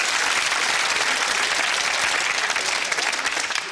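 Studio audience at a UK game show clapping for the contestants still in the round, a loud, unbroken wash of applause that carries on without any talk over it.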